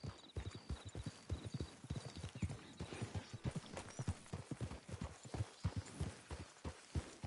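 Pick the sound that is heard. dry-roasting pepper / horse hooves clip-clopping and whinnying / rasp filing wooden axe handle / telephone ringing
horse hooves clip-clopping and whinnying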